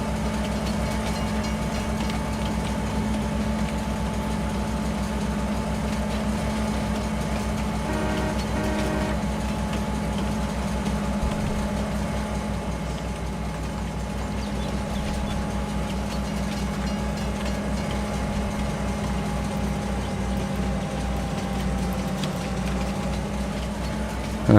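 A train rolls steadily along the tracks in a logging company video game, a continuous engine rumble and rail drone holding at an even, fairly loud level throughout, with a brief tonal blip partway through.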